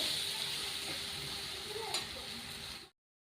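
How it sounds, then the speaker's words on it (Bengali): A katla fish head fries with spice masala in a pan, making a faint, even sizzle for a few seconds with a light stirring tick before cutting off to silence. "মশলাটার সঙ্গে ভালো করে কষিয়ে নেব"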